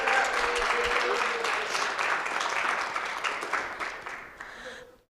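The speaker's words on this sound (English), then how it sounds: "So how about a big round of applause?" Audience applause at a guide dog school graduation honouring the puppy raisers, a full wash of clapping that gradually thins and fades out near the end, with voices faintly mixed in.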